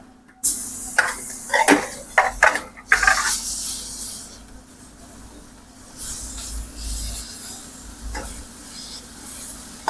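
Ginger, garlic and chili paste sautés in a pan with turmeric, giving a steady sizzle and hiss broken by clattering stirs and scrapes against the pan, loudest early on, then settling into a softer sizzle.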